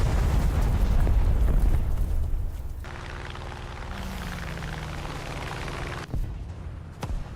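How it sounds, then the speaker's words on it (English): A bomb blast in the War Thunder combat game: a loud, deep rumbling explosion that swells and then fades into a steady engine drone, with a smaller pop near the end. "Thanks for the bomb, bro."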